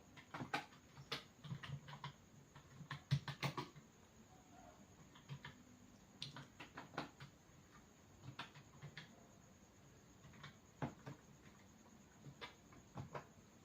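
Quiet computer keyboard typing of a terminal command on Kali Linux, irregular soft key clicks in short bursts with pauses, faint and close with a low room background, no talking.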